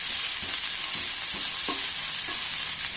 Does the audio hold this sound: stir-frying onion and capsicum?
yes